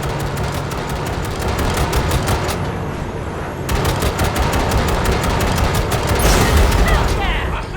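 Automatic gunfire rattles in long, rapid bursts during a Cyberpunk 2077 fight to shoot out a train coupler, loud and close, with a short pause before it resumes and a voice speaking under the shots.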